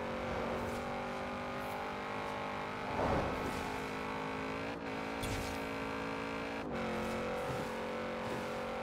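Audi RS7 engine driven through an 8-speed gearbox in Forza Horizon 4: a steady, droning engine note held at high revs, with brief dips that suggest gear changes, heard close with no talking.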